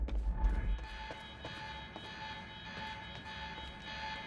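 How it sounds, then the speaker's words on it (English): An alarm in the video game Quantum Break rings as a sustained electronic tone with pulsing repetitions, steady and moderately loud over low background rumble, no talking. "The alarm must have locked everything down."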